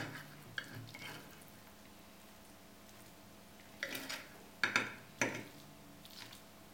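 Cutlery cutting into and eating a big steak: faint scraping, then several sharp clinks of metal on a plate clustered in the second half, close and quiet with no talking.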